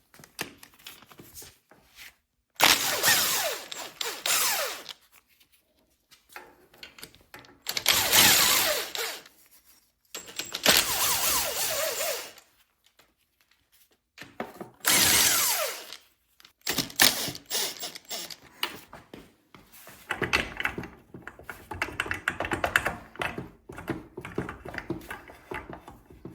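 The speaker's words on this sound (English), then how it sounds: "Let's get this exhaust out of the way next." Wrench clicks, metal scrapes and rattling bursts while the exhaust is pulled off a rare Honda dirt bike that smokes heavily, coming in irregular loud spurts separated by quiet pauses, with no talking.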